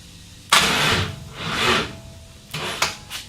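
A Coyote-swapped Ford F100 with undersized battery cables cranks on its starter: two labored, grinding bursts followed by short stuttering catches, loud and close in a shop, with no talking.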